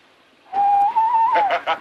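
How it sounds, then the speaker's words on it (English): A single steady handmade whistle tone, held then wavering slightly, followed by a few short breathy bursts, loud and close. "Want a whistle?"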